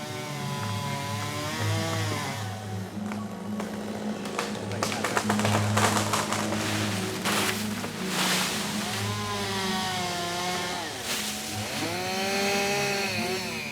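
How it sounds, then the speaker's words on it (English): A big chainsaw cuts branches during a canopy trimming experiment in a forest, its engine droning steadily and revving in waves throughout, loud and close. "Replicating the effects of a hurricane on a tiny scale requires a big chainsaw."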